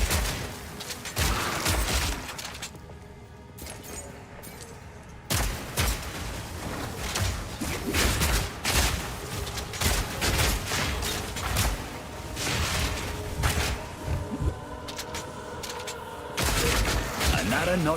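Rapid bursts of shotgun fire from the video game Path of Exile 2, dense and loud volleys that repeat with short pauses, heard with some talking.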